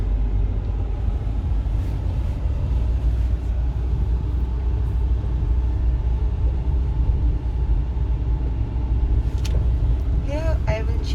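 A manual car's engine drones loudly and steadily from inside the cabin as it revs before a gear change, with a low rumble throughout and a brief voice near the end.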